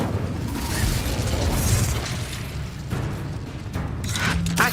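In the Hogwarts Legacy video game, the Incendio fire spell is cast, producing a dense, loud, continuous roaring burst of flame with rumbling and crackling texture that swells again near the end.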